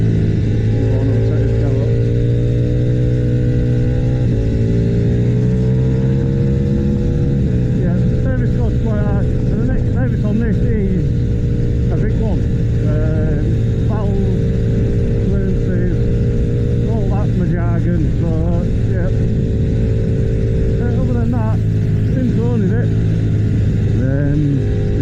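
A Ducati V4 motorcycle engine runs steadily up close, a loud, continuous low drone with layered harmonics and slight pitch rises suggesting light revving throughout.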